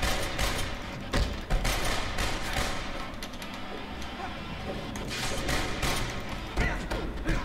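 Enemy gunfire in the Spider-Man 3 video game cracks out in dense, repeated volleys of shots with a few heavier thuds, loud and close throughout, with some voices mixed in.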